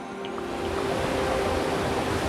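Twin Falls waterfall on the Buffalo River in Arkansas, a steady broadband rush of falling water, loud and continuous without a break, close by with no talking.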